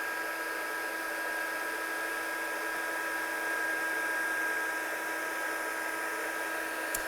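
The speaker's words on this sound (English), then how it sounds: "as soon as I'm happy my gun is at the temperature, as soon as you pop it on, the embossing powder should change" A heat gun blows in a steady, unbroken hiss and whine while it heat-sets embossing powder on a handmade card, holding an even level throughout.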